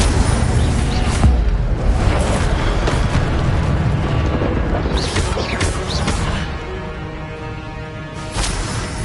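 In the Hogwarts Legacy video game, spells including a fiery Incendio blast go off as booming, crackling bursts over a continuous rumbling battle backdrop, with several sharp impacts spread through the clip.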